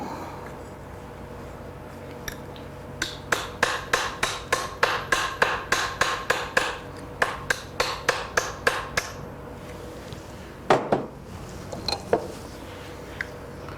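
Metal shell forming with a hammer: a long run of sharp, evenly spaced strikes rings out close by, pausing briefly before a few louder blows and a final scattered group of taps.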